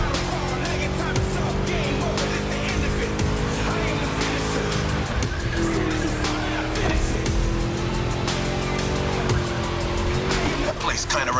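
A V8 race car roars through a lap in The Crew Motorfest, its engine note droning steadily with shifting pitch and tire squeal, loud and close throughout, with some voice mixed in.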